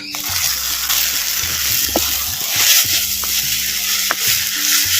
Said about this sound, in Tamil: அரைச்ச தக்காளி பழம் சேர்த்துக்குவோம்